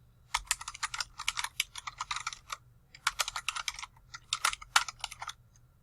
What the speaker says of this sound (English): we're going to type the words running head and a colon, and then we're going to type the title of our paper.